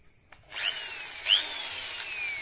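A corded AC electric drill whirs up and runs steadily at a high pitch, with a brief rise in speed partway through, close to the microphone.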